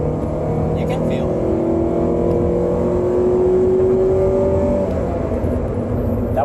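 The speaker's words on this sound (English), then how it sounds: "All right, 3, 2, 1, flooring it." A 2005 Toyota Celica GT with a 140-horsepower engine accelerating hard at full throttle, heard from inside as a steady engine drone with rising tone that climbs and then drops at a gear change.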